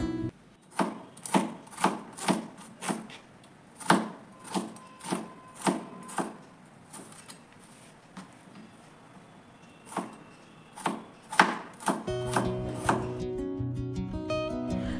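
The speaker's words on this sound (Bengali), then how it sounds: "তো সেই জন্য আগে সবজিগুলোকে কেটে নিচ্ছি" Knife chopping bitter gourd and pumpkin on a board in a home kitchen, a steady run of sharp close chops with short pauses, ending in a brief spell of other kitchen sound.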